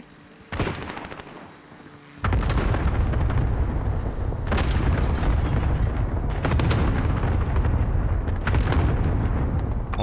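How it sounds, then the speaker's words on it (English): Explosions in a video game, heavy booming blasts that land in repeated bursts over a loud, continuous rumbling barrage, close and dominant with no talk. "they can't hear my footsteps when there's explosions happening everywhere"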